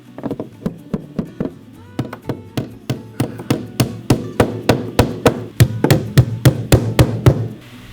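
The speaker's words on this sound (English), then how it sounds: "This might be the first time I've driven nails directly on this side in months." A hammer drives nails into a thin wooden stair riser in a new-build staircase, with a long series of sharp, close blows that quicken and grow louder toward the end.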